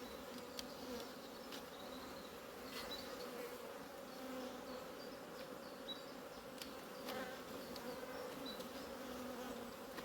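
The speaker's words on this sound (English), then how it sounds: "You need to make sure there's enough bees in the bottom to cover both layers of brood." Honey bees buzz at an open hive in a steady, dense drone, close and continuous, with occasional faint clicks and no voices.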